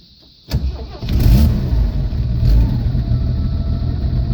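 A 1979 Jeep CJ5 engine cranks and fires with the choke applied, then settles into a loud, rough, steady idle close by.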